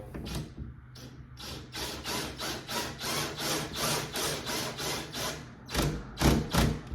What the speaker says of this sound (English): You hear the clutch kick in because I just don't want to put a lot of pressure on it